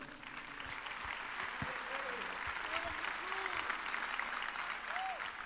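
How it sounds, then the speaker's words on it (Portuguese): Congregation applause during a Portuguese-language church service, a steady dense wash of clapping sustained throughout with some voices and faint sung or shouted tones mixed in. "Vamos aplaudir ao Senhor?"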